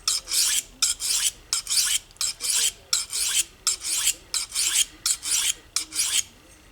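A knife blade is sharpened on an Atoma 400 grit diamond stone, a close, rhythmic series of about a dozen gritty rasping strokes, each roughly half a second, separated by short pauses.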